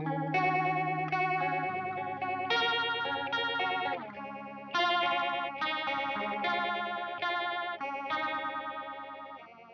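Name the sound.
guitar effects pedal turned up for rotary speaker sound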